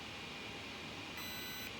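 A Spektrum Firma ESC in an Arrma Outcast 8S 1/5-scale RC car gives a single clear electronic beep lasting about half a second during programming, over a quiet background hum.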